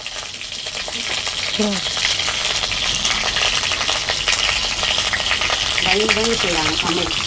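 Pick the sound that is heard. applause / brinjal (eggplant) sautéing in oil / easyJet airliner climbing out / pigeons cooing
brinjal (eggplant) sautéing in oil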